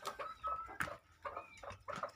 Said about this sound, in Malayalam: ഏറ്റവും അടിപൊളി കോഴി എൻ്റെ ഫേവറേറ്റ് കോഴി കാപ്പിരി